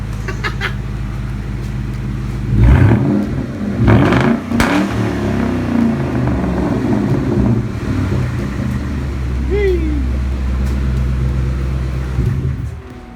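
A 2003-2004 Ford Mustang Mach 1 with its 32-valve V8 running just after new spark plugs were fitted, a loud, close, steady rumbling idle with a couple of brief revs early on.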